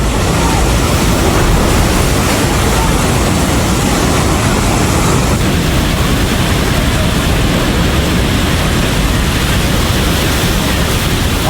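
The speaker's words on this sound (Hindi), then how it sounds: "पानी का बहाव देखिए जरा, इतनी तेज पानी आया है कि खिलौनों की तरह बस पानी में बहती हुई चली गई।" Flash flood water in Nepal rushes hard enough to sweep a bus away, a loud, steady roar of churning water that holds for the whole stretch.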